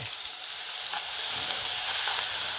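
Steady, bright sizzling of crushed shallots frying in hot oil, a continuous crackling hiss that holds even throughout, with no voices.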